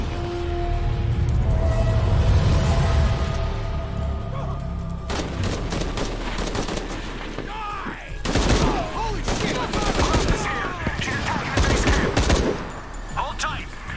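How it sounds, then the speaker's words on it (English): Bursts of machine-gun fire in Shadow of the Tomb Raider crackle in rapid clusters over a low, rumbling game backdrop. The shots come loud and close, broken by short pauses, with brief game voices in between. "Now I have a machine gun."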